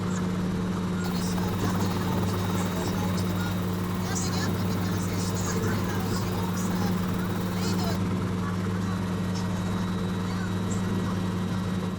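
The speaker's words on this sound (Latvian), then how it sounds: "Šeit jau seko nākamais uzdevums – nosēdināt helikopteru." A landing helicopter's engine and rotor drone on at a steady, loud level, with a constant low hum running throughout.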